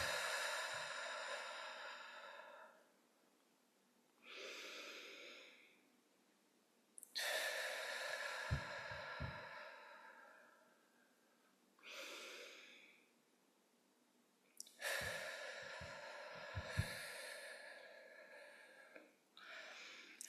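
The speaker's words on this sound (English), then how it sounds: "take 3 deep breaths" Slow, deep breaths during a guided meditation, several long inhales and exhales drawn one after another, soft and close in a hushed room.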